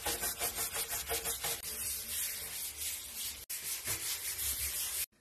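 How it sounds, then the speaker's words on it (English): A brush scrubs a shower and bathtub sprinkled with cleaning powder, giving a fast rhythmic back-and-forth rasp close up that then settles into steadier gritty scrubbing. "just get scrubbing right away"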